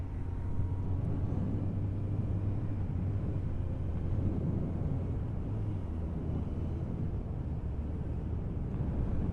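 A 1000cc motorcycle pulling in sixth gear at 2000 RPM, around 50 km/h, with a low steady engine drone buried under constant rushing wind.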